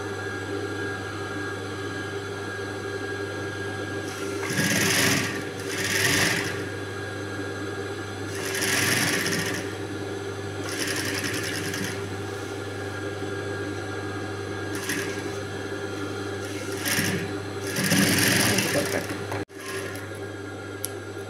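A sewing machine stitches a blouse hook strip in several short bursts of rapid mechanical whirring, with pauses between runs over a constant low hum.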